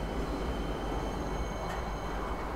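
A train ride in the game Star Citizen, in the Lorville area, gives a constant broadband rumble and hiss of rolling motion, steady and close, with no voices.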